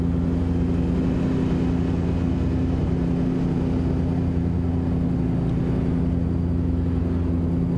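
Traffic vehicle engines in Euro Truck Simulator 2 produce a steady, loud low drone with a constant hum, unbroken across the stretch and free of talk.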